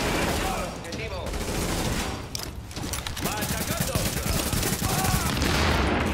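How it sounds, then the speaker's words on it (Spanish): Sniper rifle gunfire in The Division amid a heavy firefight, with shots, bursts and thuds piling up continuously in a loud, busy mix, with voices speaking underneath. "Eso es el rifle francotirador"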